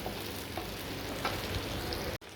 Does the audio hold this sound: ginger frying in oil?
yes